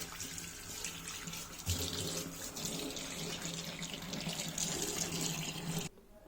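Tap water runs steadily into a wash basin during rinsing, a continuous close splashing hiss that stops abruptly near the end.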